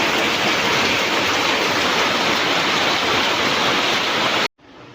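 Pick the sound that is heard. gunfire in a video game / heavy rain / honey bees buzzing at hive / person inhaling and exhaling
heavy rain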